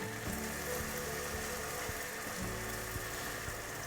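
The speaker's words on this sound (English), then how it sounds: "And they sizzle and start soaking up the syrup straight away." Freshly fried jalebis dropped into sugar syrup, giving a continuous soft sizzling hiss with faint bubbling and a few small clicks, low in level and without talk.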